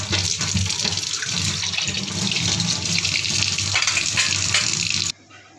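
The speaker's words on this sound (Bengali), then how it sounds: "এই কটা বাসন আমি ধুয়ে নিলাম" Dishes are washed under a running kitchen tap, with a loud, steady gush of water and clatter that stops abruptly near the end.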